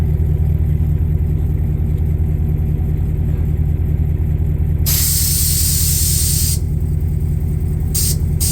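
Air bags on a Chevrolet C1500 truck's DIY air suspension dump their air, a loud broadband hiss bursting in near the mic, then cutting off and returning in short spurts over a steady engine idle.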